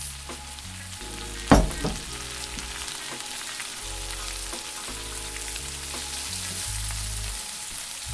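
Curly parsley stirred in a hot pan just turned off, with a soft continuous sizzle, a sharp clatter of a utensil early on and gentle scraping strokes throughout.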